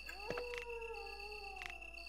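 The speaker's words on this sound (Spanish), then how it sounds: "Hay un perro delante mío." A dog in the PS1 video game Resident Evil: Director's Cut gives a quiet, drawn-out howl that slides slowly downward, with faint whimpering tones and soft game background noise beneath.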